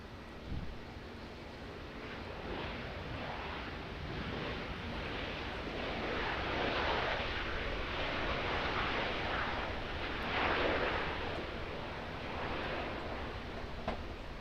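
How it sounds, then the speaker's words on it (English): An Air New Zealand Airbus lands on runway 23 left at Auckland Airport, its engine roar a broad, distant rumble that swells and holds, mixed with wind buffeting the microphone. "New Zealand Airbus arriving on 23 left."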